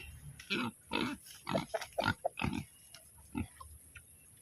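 A pig grunts repeatedly in short, close bursts, with irregular pauses between the snorty grunts.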